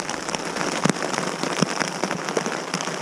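Hail and rain pelt a tent in a steady dense patter, with harder individual hailstones cracking sharply against the fabric every so often. The sound is loud and close, and no voices are heard.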